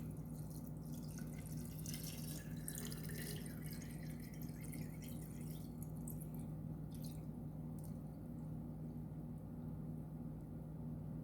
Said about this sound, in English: Now we're gonna fill her up with some water.